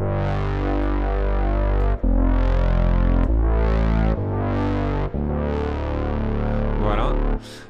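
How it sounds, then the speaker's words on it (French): A sustained buzzy synthesizer tone from the Arturia SQ80 V plugin repeats in long swelling notes, each sweeping upward with a wide, washy reverberant tail, loud and alone. "je vais activer cette reverb"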